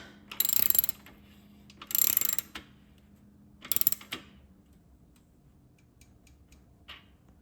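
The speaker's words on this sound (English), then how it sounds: "you want to take your 15/16 and you're going to place it in there and you're going to tighten it" Ratchet with a 15/16 socket tightening a wheel axle nut, three short bursts of rapid clicking close to the mic, separated by quiet pauses, then a faint final click.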